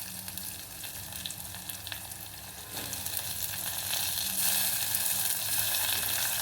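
Tomato pieces hitting hot oil and being stirred in a pan for Telangana-style chamagadda pulusu, a continuous close sizzle that swells louder partway through, with faint scraping and no voices.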